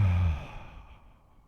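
A single slow, deep breath out during a breathing exercise, a long sighing exhale that starts fairly loud and close, then fades gently into quiet.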